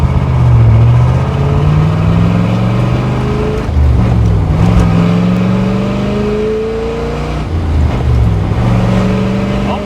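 A 1966 Chevrolet Corvette big block accelerates hard, its loud engine note climbing steadily through the gears with brief dips at each shift, close and continuous for the whole stretch.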